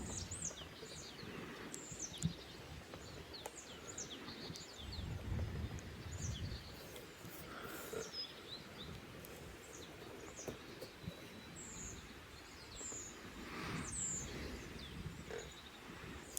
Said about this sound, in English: Although, of course, birds are the animals you hear most. They like to sing.